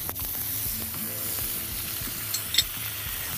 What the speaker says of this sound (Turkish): Sosumuzu verdikten sonra tavamıza diğer tereyağımızı ilave ediyoruz.